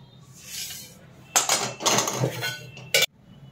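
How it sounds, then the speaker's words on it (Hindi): A metal kadhai is set on a kitchen stove with clinking, scraping clatter, a few sharp metallic knocks and a final bright clink, then near quiet, with no voices. "मैंने इसमें कढ़ाई चढ़ा दी और मैं तेल डाल दूंगी"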